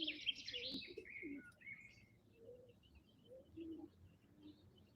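Soft, quiet bird chirps and a few low cooing notes come in scattered bursts against a calm, hushed background.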